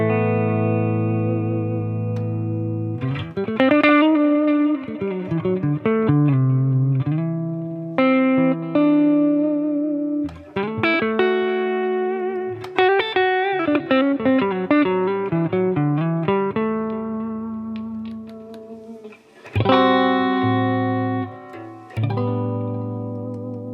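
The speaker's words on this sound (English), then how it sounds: "I have a clean sound here, EQ set halfway, no boost" A Line 6 Catalyst amp plays a clean electric guitar with EQ set halfway, no boost, and reverb and delay on. Strummed chords and picked notes ring out loud and sustained, with pauses between phrases and echoing tails.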